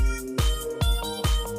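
Bagpipe-style synth lead playing the main melody of a beat, sustained droning tones over punchy kick drums hitting roughly every half second, loud and close with no talk.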